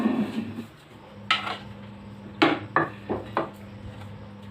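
A bowl clinks as it is handled on a kitchen counter while lobia chana chaat is being prepared, several short hard knocks and clatters of dishware close by, with no talk.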